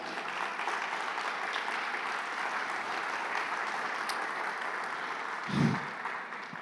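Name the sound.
congregation applauding in church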